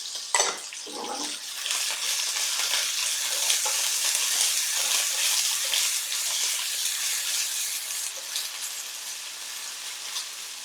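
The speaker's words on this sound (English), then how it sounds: "Give it a quick stir fry." Bamboo shoots stir-fry in a pan over medium heat with a loud, continuous sizzle and hiss, opening with a short clatter as they hit the pan.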